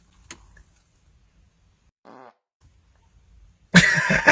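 A short, sharp fart after drinking Mtn Dew Major Melon, a brief low buzzing burst in a quiet room, then a louder rustling noise at the end.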